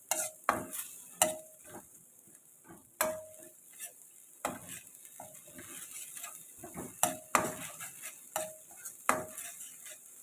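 Curry ingredients for spicy pork-ball curry dry-roasted in a pan, with repeated scraping and clattering stirs in an uneven rhythm, close and fairly loud, with a light sizzle underneath and no talking.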